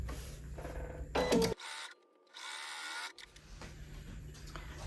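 A sewing machine stitches a quarter-inch seam on a cotton card trick quilt block. It runs in short bursts of fast mechanical whirring, broken by brief quiet pauses, close and at moderate loudness with no talking.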